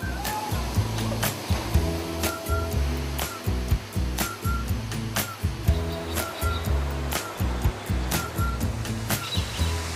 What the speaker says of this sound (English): Condalilla Falls truly lives up to its name. In Aboriginal, it means rushing waters